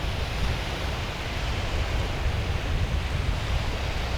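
Strong wind and surf on a sandy beach during a pre-dawn surfcasting session, a dense continuous roar of waves and gusting wind buffeting the microphone, loud and steady with no voices.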